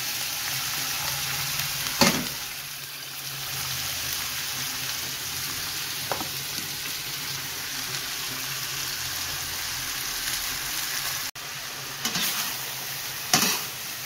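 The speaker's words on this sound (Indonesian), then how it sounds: "Ketika minyaknya sudah mulai panas, ya, kemudian kita masukkan cabai yang kita sudah iris-iris tadi." Sliced chili peppers fry in hot oil, giving a steady close sizzle with occasional louder stirring scrapes and clatters.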